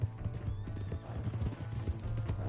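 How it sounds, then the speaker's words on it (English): Horse hooves clip-clopping at a steady trotting rhythm in Red Dead Redemption 2, close and continuous, with a neigh mixed in and no talking. "Hey, that's my horse!"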